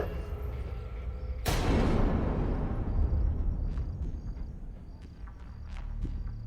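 A single gunshot cracks loudly in a crime drama scene, a sharp sudden burst followed by a broad rumbling decay, with faint insect-like chirps lingering afterward.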